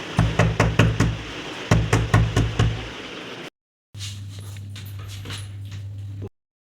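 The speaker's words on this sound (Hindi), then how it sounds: "हाँ, वो खटखट कर रहे हैं" Sharp knocking on a door from a neighbouring room comes in two quick bursts of about five raps each, fairly close and loud, followed by a stretch of steady low hum with faint shuffling.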